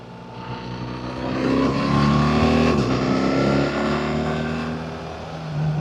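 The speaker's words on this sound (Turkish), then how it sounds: "Araba geliyor." A car engine approaches on a mountain road up Uludağ near Bursa, swelling from faint to loud as it nears and then holding a steady roar, with no voices.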